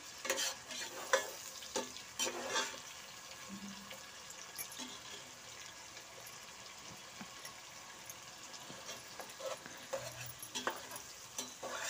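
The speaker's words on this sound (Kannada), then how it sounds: "ಈರುಳ್ಳಿ ಎಲ್ಲ ಫ್ರೈ ಆಗಬೇಕು." Onions frying in a pan for vangi bath, with soft intermittent spatula scrapes over a faint, steady sizzle, quiet and without speech.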